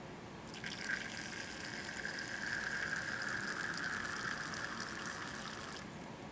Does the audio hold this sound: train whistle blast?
no